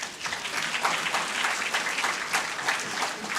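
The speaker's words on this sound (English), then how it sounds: "So give a round of applause to all of you." Hackathon audience at a Web3 event giving themselves a round of applause, steady mid-level clapping from a modest crowd that runs on for a few seconds.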